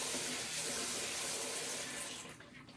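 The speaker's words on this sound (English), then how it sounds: "I would then take it to another sink, rinse the basin" Water from a sink tap runs steadily to rinse a foot basin, a loud continuous splashing rush close by that thins out near the end.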